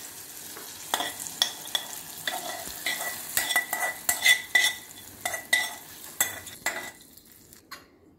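A spoon stirs a sizzling tempering of fried chillies into yogurt for spinach curd chutney, giving a steady run of scraping clinks and metal taps over soft crackling that stops abruptly near the end.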